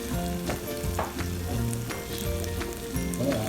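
Steady sizzling and crackling of corned beef frying in a pan, with occasional scraping or stirring, heard close up over a continuous background hum.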